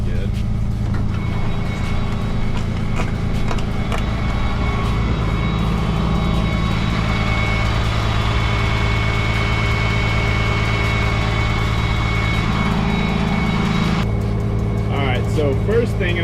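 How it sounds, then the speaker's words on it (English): A flatbed truck hauling a set of doubles idles with the parking brake set and the PTO engaged. A loud, steady low engine rumble is close by and continuous, rising slightly as it is idled up, with faint clicks on top. "We're gonna hit the PTO switch. Parking brake is set, and then we'll just idle it up just a touch."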